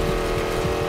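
A hypercar engine roars continuously at high revs during a race in Need for Speed Payback, producing a brief, loud, steady drone.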